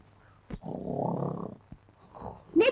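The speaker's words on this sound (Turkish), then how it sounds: "Nedir bu horultu?" A drunk man sleeping indoors snores in a long, rough, rumbling breath lasting about a second, followed by shorter snorting breaths and a sharper snort near the end, all fairly close and fairly quiet.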